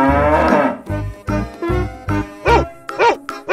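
A cow moos in a loud, close series of calls, several harmonic lowing bursts in a row with brief gaps, alone without talk.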